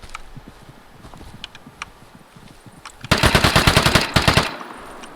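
A submachine gun fires in a video game in two rapid bursts, loud and close, following quieter scattered game sounds and distant shots.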